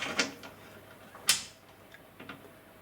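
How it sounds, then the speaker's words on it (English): A socket wrench tightens a nut and bolt on a hinge, giving a few faint, close ratcheting clicks and ticks spaced irregularly over a quiet background. "then you tighten it up just by using a socket"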